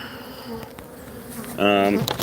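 Honeybees buzz around open beehives worked without smoke, a steady close drone with individual bees sweeping past the microphone, one passing loudly near the end.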